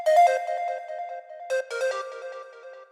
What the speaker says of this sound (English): I just clicked in like some melody with the flute